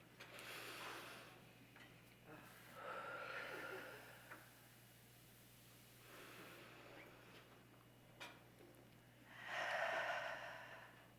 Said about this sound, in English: can we do 3 deep breaths together?